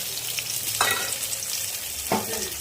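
Chopped onion sizzles steadily in hot oil with whole cumin seeds in a pan, with two distinct scraping stirs cutting through the constant frying hiss.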